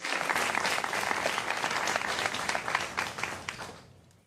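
Audience applause fills a room at a public address on a community program in New York City, steady dense clapping that holds strong for about three seconds and then tapers off.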